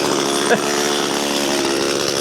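Chainsaw with a freshly sharpened chain cutting wood, its engine holding a loud, steady, high-pitched whine with a strong buzzing edge from start to finish, close by and alone.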